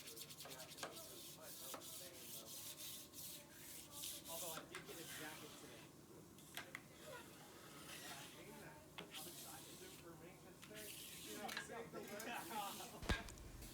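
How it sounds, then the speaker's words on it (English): Grill scraper or metal spatula scraping loose food buildup off a commercial grill surface, continuous rough rasping strokes up close, fairly quiet, with occasional metallic knocks. "use your grill scraper or metal spatula to remove loose food buildup"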